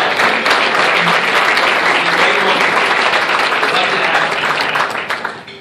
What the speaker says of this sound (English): Let's give Althea a round of applause.